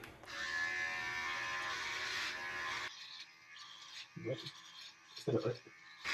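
A Manscaped Beard Hedger electric beard trimmer buzzes steadily up close for about three seconds, then stops; brief rustles and a couple of short voice-like bursts follow.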